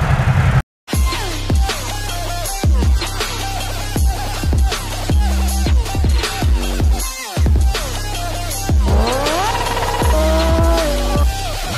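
A Ducati Monster 797 motorcycle engine runs loud and close, its revs rising and falling in repeated bursts with a steady idle between them, after one brief gap near the start.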